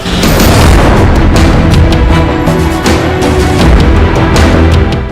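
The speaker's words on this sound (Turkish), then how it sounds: "Beyrut limanında meydana gelen dev patlama ile birlikte de sarsıldı." Massive port explosion in Beirut in 2020: a loud, sustained roaring boom with rumbling blast noise that stays dense and heavy across the whole stretch, no talk over it.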